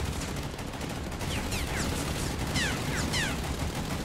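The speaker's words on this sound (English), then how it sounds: "you can just hear them blasting away with those 20 mils, those Oerlikons" Oerlikon 20 mm anti-aircraft guns firing aboard a destroyer during a naval battle in a video game, a dense, continuous din of rapid gunfire with sharp shots in bursts over a steady roar.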